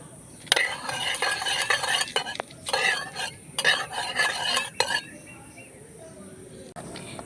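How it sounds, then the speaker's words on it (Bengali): Onions fry in oil in a wok for biryani with a bright, crackling sizzle and repeated clattering stirs of a metal spatula in bursts, close up, before the activity quiets down. "বেরেস্তার জন্য পেঁয়াজগুলোকে আমি এবার ভেজে নিচ্ছি।"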